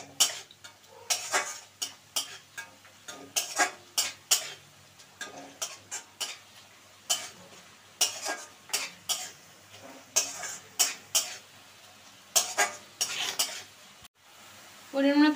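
Spiced fish curry of shankar fish being stirred and sautéed in a pan, with rhythmic repeated scrapes and knocks of a spatula against the pan over a light sizzle, close and steady, without speech.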